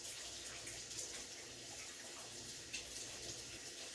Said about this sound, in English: Get me a little salt and water here and wash my hands.